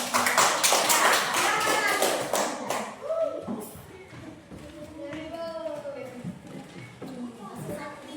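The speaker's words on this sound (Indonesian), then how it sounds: "Tepuk tangan untuk penampilan kelompok satu." Classroom audience clapping for a student group after their presentation, a dense burst of claps filling the first three seconds and then thinning to scattered taps under background voices and room noise.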